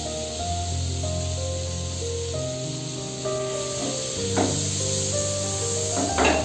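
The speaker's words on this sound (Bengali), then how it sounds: "এখানে আমি 1 টেবিল চামচ মতো বাটার দিলাম।" Butter, about a tablespoon, melting and sizzling in a pan as the first step of a restaurant-style chicken tikka masala, a steady close hiss with light spattering and no talk, though bright tonal lines suggest background music over it.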